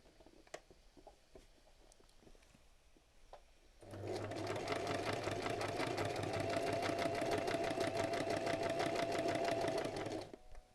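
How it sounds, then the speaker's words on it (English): A sewing machine stitching fabric: after a quiet stretch of small handling noises, a close, steady, rapid mechanical whir and patter starts and runs evenly for several seconds before stopping. "I'm going to just sew that directly on."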